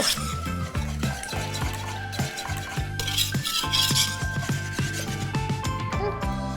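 A whisk beats a pudding mixture of salt and cornstarch in a metal pot. Quick, rhythmic scraping strokes clatter against the pot's sides and bottom, with steady tones running behind.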